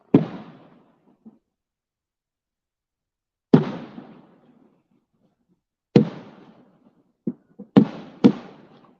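Fireworks bursting outdoors on a residential street, with sharp, loud booms arriving one at a time at irregular intervals, each trailing off into a short echoing decay, and a quick double burst near the end.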